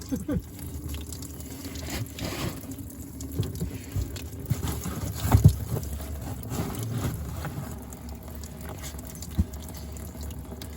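Water drains from a waterlogged Case bulldozer in a faint, uneven trickle and splash, with low rumbling and scattered knocks mixed in over about ten seconds.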